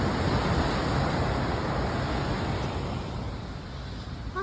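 Big ocean waves at a beach in Sayulita, Mexico, giving a continuous broad roar of surf, loud and steady, with wind adding to the wash and no talk.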